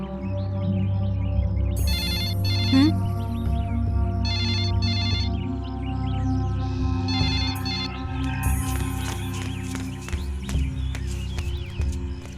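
A telephone rings in repeated electronic bursts over a busy background of music and ambient sound, fairly prominent and close, in a household drama scene.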